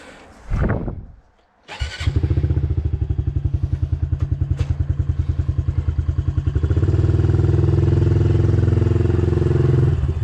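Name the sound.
motorcycle engine while learning to ride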